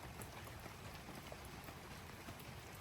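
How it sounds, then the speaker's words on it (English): A faint, even hiss of heavy rain pouring outside, a steady wash of drops with no other sounds over it. "It's pouring outside,"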